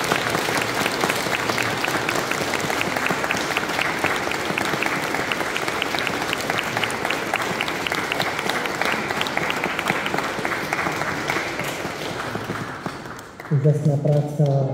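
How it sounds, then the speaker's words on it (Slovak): An audience at a Nativity devotion in Raková claps in sustained, dense applause for about thirteen seconds, loud and even, before it gives way to a brief voice. "Teda ešte jeden potlesk pre ňu"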